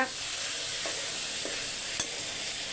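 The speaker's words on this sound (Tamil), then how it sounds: "நல்லா மிக்ஸ் பண்ணி விட்டுருங்க" Soy-sauced meal maker chunks stirred in a frying pan, a constant hiss of frying with a couple of light spatula taps, near and moderately loud, no speech.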